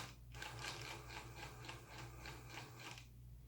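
The drivetrain of a Capra RC crawler whirs under gentle throttle, a soft, close gear whine with faint rhythmic ticking that holds steady for about three seconds before easing off, over a low background hum.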